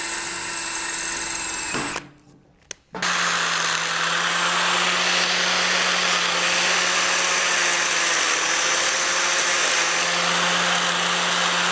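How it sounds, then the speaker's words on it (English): A power drill whirs steadily and loudly, enlarging a hole in a bracket for a Honda Grom motorcycle build, briefly stopping after a couple of seconds, then running continuously again at a high, even pitch. "hole is just a tad bit too small, so we're gonna drill a hole."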